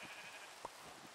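A single faint sheep bleat from a video game rises briefly out of quiet ambient background, short and isolated, with no talking.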